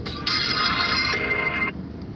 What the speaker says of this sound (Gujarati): કોકનો ફોન આવ્યો